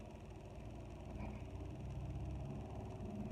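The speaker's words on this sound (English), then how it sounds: "Somebody's driving by with a really loud truck." A loud truck passes by outside, its heavy low engine rumble steady and fairly distant, filling the whole stretch without any talk over it.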